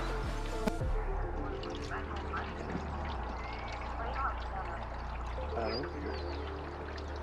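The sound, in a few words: water running out the bottom of Camaro engine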